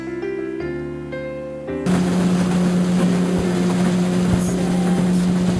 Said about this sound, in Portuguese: Esse é o barulho do motor, tá? A gente vai pilotando lá.